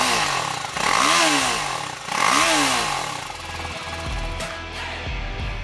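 Exhaust of a 2021 TVS Apache RR310 sport motorcycle with its reworked exhaust system, a loud raspy engine note that rises through revs twice in quick succession, then settles into a lower, steady burble.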